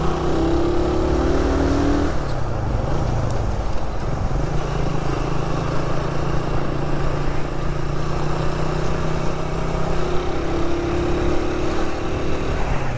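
A motorbike engine droning steadily while riding along a road near Bandorasa, Kuningan, a loud continuous hum with rising and falling pitch as the rider shifts and accelerates, mixed with wind rush.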